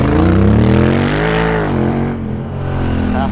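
A Honda Rebel 1100 fitted with a Coffman's shorty exhaust roars past close by, its engine note loud as it approaches and then falling away as the bike moves off.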